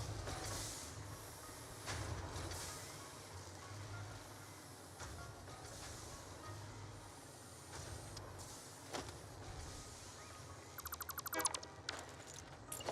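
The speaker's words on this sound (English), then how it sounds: "Bye, train." A train from the factory-building video game Satisfactory rolls past with a steady low rumble, faint rattles and clanks, and a brief burst of rapid beeping near the end, with no talk.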